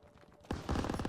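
Machine gun fire in the Call of Duty WW2 video game, set on a tense town street, breaks out halfway through as a dense, loud rattle of rapid shots after a quiet lead-in.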